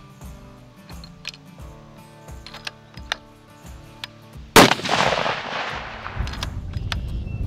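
A single loud rifle shot at an outdoor target range, from a 6.5 Creedmoor or 300 Ultra Mag, cracks sharply after several seconds of quiet clicks and handling noises, then a long booming echo and wind noise trail off.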